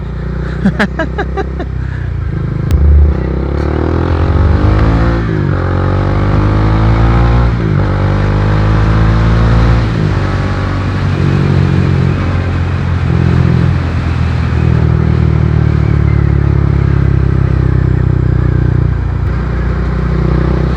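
A Kawasaki Dominar 400 motorcycle revs hard and loud on a Kaybiang Tunnel ride, its engine note climbing and falling in long sweeps against constant rumbling road and wind noise.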